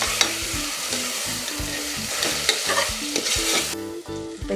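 Tomatoes and salt sautéing in a pan for prawn biryani, with a loud continuous sizzle and rapid rhythmic scraping and stirring of a spoon against the pan, close up.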